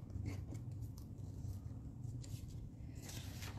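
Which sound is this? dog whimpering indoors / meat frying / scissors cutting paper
scissors cutting paper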